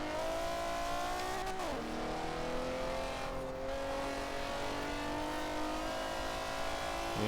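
A Ford Puma's engine drones steadily at high revs while racing in Forza Horizon 4, with a brief dip and shift partway through before the sustained whine resumes.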